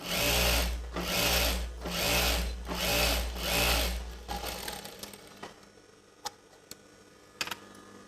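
A sewing machine runs through chudidar pant fabric in five rhythmic bursts of loud whirring, each lasting close to a second. Scattered clicks and fabric handling follow in the quieter stretch after.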